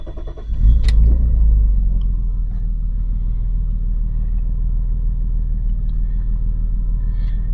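A car starts with a short crank, then the engine catches and settles into a steady, loud, close idle rumble that carries on to the end.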